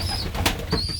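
Young pigeons settling into a loft, heard in one short burst of soft wing flaps and rustling over low cooing and a steady background hum.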